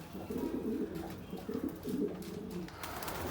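Several pigeons coo softly in short bursts, close by, with a light steady background hum.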